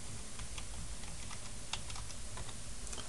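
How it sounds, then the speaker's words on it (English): Computer keyboard keys tapped in a quick, uneven run of light clicks, close and steady against a faint background hum, entering a MicroStation key-in command. "Bear with me as I type in this key in"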